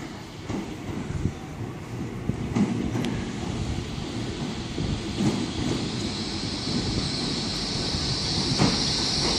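Great Western Railway nine-coach train at Exeter St David's station on a Sunday evening, a steady loud rumble of rolling coaches with a rising hiss later on.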